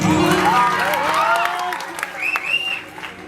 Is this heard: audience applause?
yes